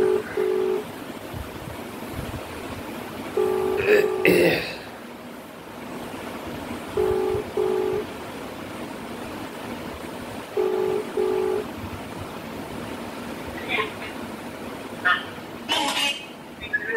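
A phone call to an uncle's home rings back in evenly spaced double tones about every three and a half seconds over a steady background hiss.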